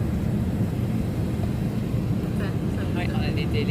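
Steady broadband roar of a China Airlines double-decker airliner cabin in flight, dense low rumble filling the whole stretch, with faint chatter and a light clink near the end.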